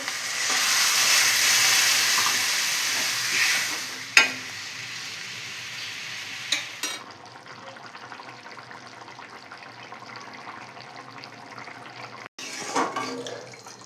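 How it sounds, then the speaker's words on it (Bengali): Hot water poured over a sizzling vegetarian paneer curry with fried potatoes and sugar in a home kitchen: loud frying hiss that softens into a quieter bubbling simmer, with a few sharp clatters and brief pauses. "গরম জলটা আমি করে দিয়েছিলাম সেই গরম জলটা উপর দিয়ে দিয়ে দেবো"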